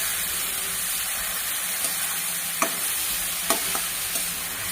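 Stuffed bitter gourd frying in a pan, giving a steady sizzling hiss throughout with a few faint clicks of a utensil, no talking.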